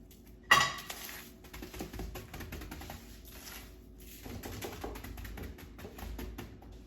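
A knife cuts small slits into steak on a board. A sharp knock opens the sequence, then quiet repeated tapping and scraping follows, close up and faint.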